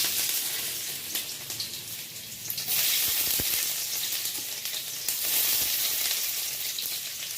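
Chopped garlic frying in hot oil in a kadai gives a loud, dense, hissing sizzle that stays continuous throughout, briefly surging in intensity partway through.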